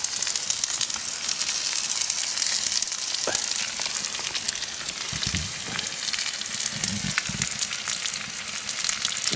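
Steak and onion frying in a pan on a wood-burning stove at a forest camp, a steady close hiss and crackle running throughout with a few brief louder spits and stirs.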